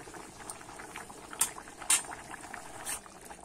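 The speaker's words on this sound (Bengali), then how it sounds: "এবারে আমি একটু ফুটিয়ে নেব, বেশি জাল দেব না, অল্প জাল দিয়েই কিন্তু ঝোলটা আমি একটু ফুটিয়ে নেব।" A pot of fish curry with taro and potato simmers gently, with soft bubbling and a few sharper pops and spits over a quiet background.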